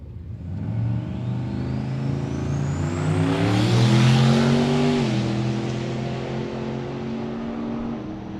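A Jeep drag racing down the strip, its engine loud and close as it revs and accelerates through the top end with a rising pitch, then eases into a steady roar.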